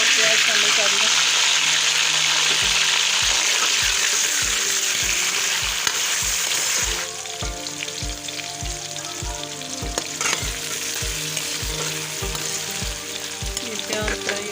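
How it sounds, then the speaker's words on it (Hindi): Onions frying in a pan for a green pea kofta curry give a steady, loud sizzle throughout, with regular soft knocks that keep a steady beat and a slightly thinner hiss in the second half. "ये प्याज फ्राई होंगे।"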